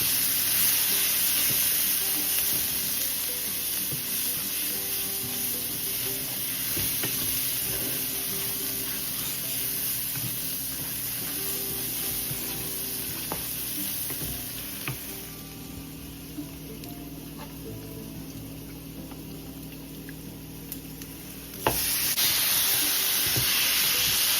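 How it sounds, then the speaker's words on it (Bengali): Masala spices being sautéed in a pan with browned onion for a Bengali-style chicken roast, a steady close sizzle and frying hiss with occasional stirring scrapes, running continuously with no talking. "মশলা এখন কষিয়ে নিচ্ছি"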